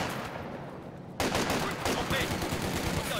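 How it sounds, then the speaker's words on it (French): Sudden burst of rapid gunfire in the video game Company of Heroes 2 after a quieter stretch, dense and continuous, with no talking. "On se fait tirer dessus."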